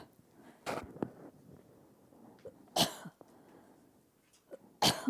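A person coughs from dust in three sharp, separate bursts spread across the moment, with quieter throat noises between them and no talk.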